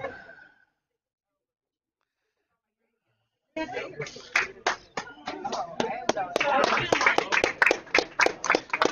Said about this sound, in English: Everybody's clapping for the teams coming off of sheet C.